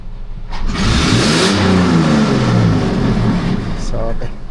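Close and loud, a Toyota FJ Cruiser's engine is revved up and held high before dropping off. The motor has been sputtering with its oxygen sensor unplugged, and a brief voice comes in near the end.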